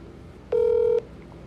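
An answering machine gives a single steady electronic beep, about half a second long, clear and close over faint background hiss.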